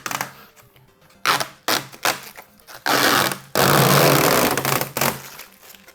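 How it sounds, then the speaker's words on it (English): Protective film being peeled off xTool laser parts, a series of loud crackling, ripping bursts with short pauses, the longest stretch sustained and tearing near the end. "that's a big peel"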